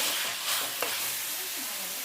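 Onions and tomatoes sauté steadily in a hot pan for pepper chicken fry, a continuous close frying hiss with a faint stir partway through.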